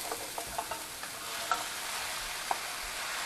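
Cooked rice being stirred into a vegetable filling in a pan for vegan stuffed bell peppers, with faint scraping and a light sizzle plus a few soft clicks of the spoon against the pan.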